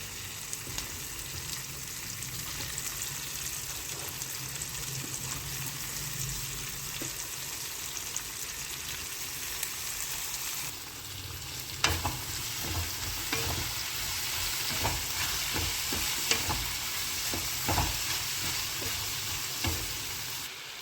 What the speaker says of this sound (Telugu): ముందుగా కట్ చేసుకున్న బెండకాయ ముక్కల్ని తాలింపులో వేసుకుందాం